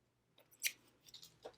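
Scissors snip planner stickers off a sheet, a few quiet, crisp cuts and paper rustles close by in a very short, near-silent moment.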